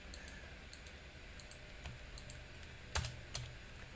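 Computer keyboard typing during Python data science work in VS Code: scattered soft key clicks at an irregular pace, with one sharper cluster of strokes near the end, quiet and alone without talk.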